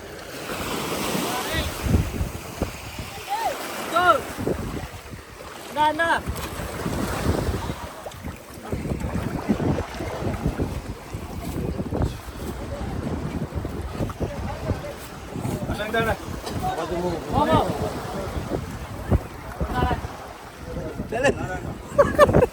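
A fishing boat comes in to a village shore amid breaking surf and gusting wind noise, its motor blending with the waves, while people's voices are heard intermittently in the background.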